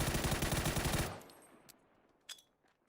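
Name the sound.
gunfire in PUBG, a video game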